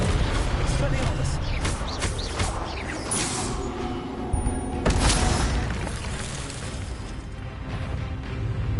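Expelliarmus spell cast in Hogwarts Legacy, a loud magical blast with booming, crashing bursts and pops under a shouting voice amid ongoing combat noise.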